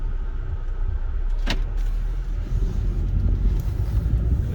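A 2011 Volvo C30 R with a manual gearbox pulls away in first gear, its low engine rumble steady inside the cabin with a brief click near the start and road noise building underneath.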